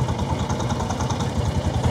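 Engine of an open rickshaw on an island in the Sundarbans, chugging steadily with a fast, even pulsing throb, close and loud, with no talking.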